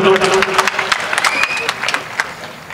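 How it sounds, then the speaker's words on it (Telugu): Audience at a public gathering at Osmania University claps in a sustained burst of dense applause. Crowd noise and a voice carry over the clapping throughout. "గట్టిగా చప్పట్లు."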